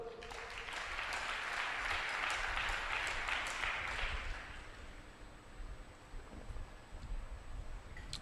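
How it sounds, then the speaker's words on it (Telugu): A congregation claps together during a church service in Guntur, a dense, steady wash of applause lasting about four seconds before thinning into scattered room noise, with no voices. "చప్పట్లు కొట్టు"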